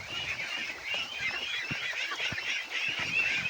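Domestic ducks feeding on snails make a steady, close chatter of dabbling and soft quacking sounds, with scattered short clicks and pecks running throughout.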